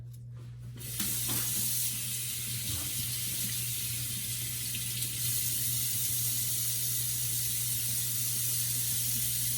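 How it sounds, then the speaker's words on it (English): Lobster tails rinsed one at a time under a kitchen sink tap. The water starts after a second of quiet, then gives a steady, close hissing splash with faint handling underneath. "I'm just going to rinse them off in the sink"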